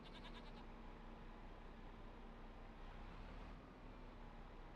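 Sheep and goats in the Farming Simulator 25 video game bleat in a short cluster at the start. The calls are faint beneath a constant ambient hiss and low engine-like hum.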